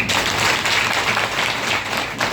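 An audience at a business plan presentation bursts into loud, dense applause, a sustained wash of many hands clapping with no break.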